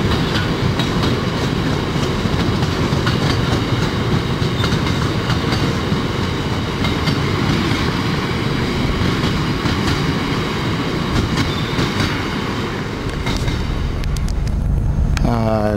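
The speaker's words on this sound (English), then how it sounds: "we're now on the 14:33 East Midlands train heading for Market Harbour, Kettering, Wellingborough, Luton and London St Pancras" Steady loud rumble and rattle inside a moving East Midlands passenger train, with continuous wheel and track noise that fills the whole stretch, heard close from a seat in the carriage.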